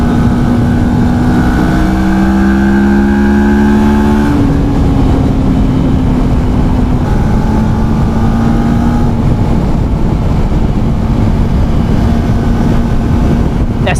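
A CFMoto 650GT motorcycle engine drones steadily under heavy wind rush while the bike is ridden through corners, its tone stepping down and shifting as the rider works the throttle.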